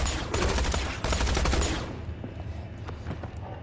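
Rapid gunfire in the video game Tales From The Borderlands, a loud, dense burst of overlapping shots that cuts off partway through, leaving quieter scattered sounds behind.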